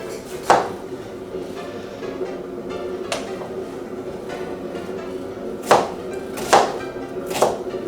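A knife chops onion on a cutting board for pico de gallo, sounding as scattered, sharp, close knocks with long gaps between them, over a faint steady background hum.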